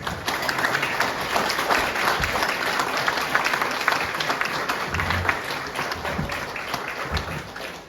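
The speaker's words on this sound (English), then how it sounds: "Can we give our panelists a round of applause?" A town hall audience applauds the panelists after a discussion about the state of the roads: sustained, even clapping from a full room that stays steady throughout without fading.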